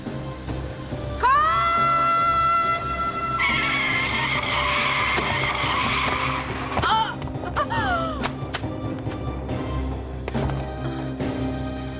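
A car's tires squeal in a long, loud skid, followed by a jumble of thuds and a second shorter screech as the car strikes people; no talk.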